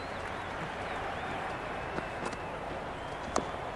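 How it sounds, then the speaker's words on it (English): A raucous cricket crowd at a match keeps up a dense, steady roar of voices and cheering for the whole stretch, with a few sharper shouts or claps poking through. "The crowd are really getting quite raucous."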